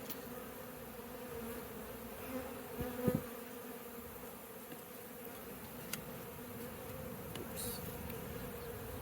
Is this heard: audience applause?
no